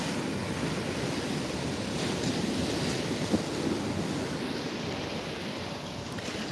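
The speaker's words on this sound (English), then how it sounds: "Look at these waves. We don't see waves like this very often," Ocean waves breaking against the shore, a steady wash of surf with wind rushing across the microphone, moderately faint and continuous with no voices.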